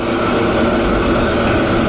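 A train passes through San Francisco, a steady loud rumble of rail noise filling the whole span without a break.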